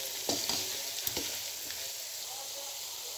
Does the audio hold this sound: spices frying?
yes